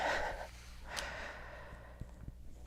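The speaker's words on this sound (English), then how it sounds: "I swear I wasn't this snuffly before I came on." A few wet, nasal sniffs and breaths close to the microphone, with a couple of short snuffly bursts near the end, against a quiet room.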